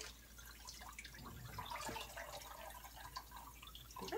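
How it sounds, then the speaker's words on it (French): Tap water running steadily at close range while a hen is washed in a sink before an anti-parasite powder treatment, with fine dripping and splashing spread throughout and no talk over it. "je vais continuer à faire couler l'eau"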